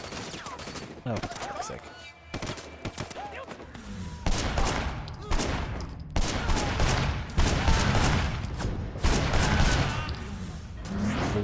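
Gunfire in the video game Sleeping Dogs on PC: dense, rapid bursts of shots and volleys continue loudly throughout while a man swears briefly over them.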